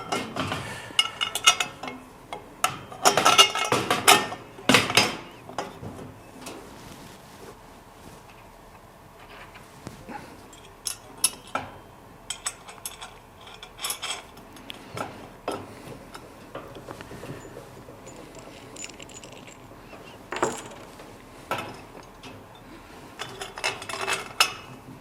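Metal bolts with washers and nuts clink and rattle in scattered bursts as a cart is assembled by hand, sharp small taps and jingles separated by quieter pauses, no talk.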